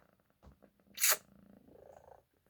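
A kitten makes soft, low purring rumbles close by, interrupted by one sharp, sneeze-like burst near the middle before the quiet purring resumes briefly.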